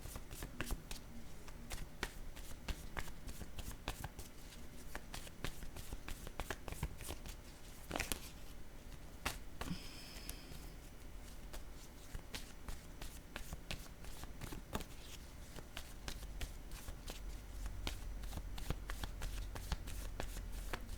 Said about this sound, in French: Je vais plutôt piger une carte pour l'homme.